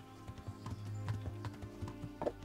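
A horse gallops in the Kingdom Come: Deliverance video game, its hooves making rapid, rhythmic clip-clops, fairly quiet and steady throughout.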